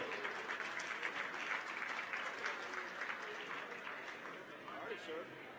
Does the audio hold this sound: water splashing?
no